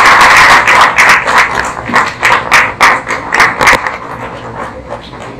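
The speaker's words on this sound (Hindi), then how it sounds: "तो जोरदार तालियों का स्वागत है।" Applause welcoming a guest at an Air India retirement function: a steady run of loud, close claps, rhythmic and dense at first, then thinning out and fading toward the end.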